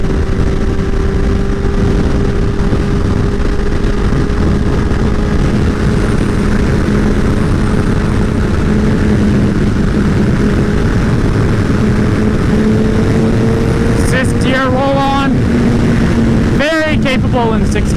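A 2015 Honda CBR 1000 RR Fireblade motorcycle pulls in a high gear, its engine tone rising steadily beneath loud wind roar, then sweeping through quick rising shifts near the end.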